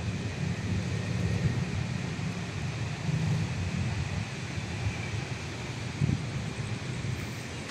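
Cold night wind gusts steadily around a pagoda at a cemetery, a continuous rushing roar with microphone buffeting and no talk.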